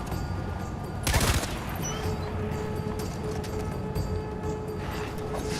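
Gunfire in the video game Far Cry 4, a loud broadband shot burst near the start followed by a few fainter cracks over steady ambient game noise.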